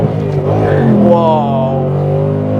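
A 2025 Ford Mustang GT muscle car with a manual clutch, floored at full throttle, its engine note climbing steadily and loudly through a short pull with a voice partly over it.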